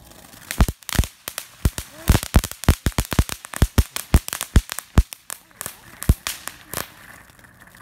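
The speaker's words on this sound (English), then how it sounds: "Here we go, another set of fireworks." Backyard Fourth of July fireworks going off, a rapid, irregular string of sharp loud bangs and crackles close by, with people talking and laughing between the pops.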